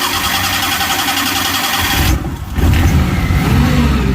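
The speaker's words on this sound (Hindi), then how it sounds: "गाड़ी स्टार्ट हो गई अपनी गैस पे" An LPG-fuelled car engine, previously not starting and now running on gas after a filter service, runs loud and close with a rough steady firing note, briefly dips, then revs up again.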